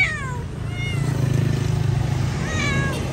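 Several small kittens meow in thin, high, plaintive cries at the start and again near the end, with a low steady rumble underneath.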